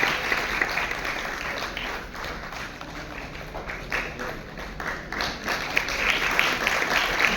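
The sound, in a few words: applause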